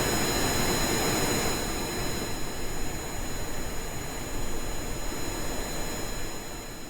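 Simulated rocket engines in Kerbal Space Program give a continuous loud roaring rush, steady and unbroken, easing slightly partway through, with no voices.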